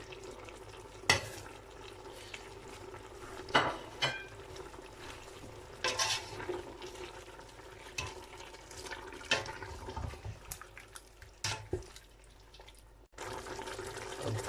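Mutton sizzles and sputters in a pan with salt, chili, turmeric, cumin and coriander, a steady frying hiss broken by scattered scrapes and knocks of stirring.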